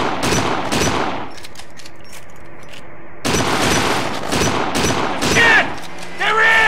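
Gunfire in Kane & Lynch: Dog Days, loud bursts of automatic shots in two clusters separated by a quieter pause, with shouting voices over the shooting.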